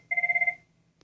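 A telephone rings once in a rapid trilling electronic burst of about eight pulses lasting half a second, clear and fairly loud, then falls silent apart from a faint click.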